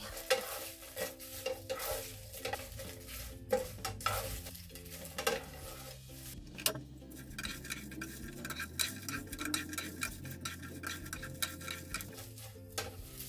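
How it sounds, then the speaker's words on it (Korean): Kelp tossed with oil in a pan, stirred with repeated close scraping and clicking strokes over a soft, continuous sizzle, quiet overall with no one talking. "다시마에 기름이 잘이게 섞어주세요"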